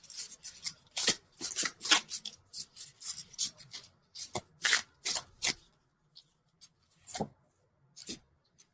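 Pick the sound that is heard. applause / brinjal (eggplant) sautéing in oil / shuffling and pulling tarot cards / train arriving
shuffling and pulling tarot cards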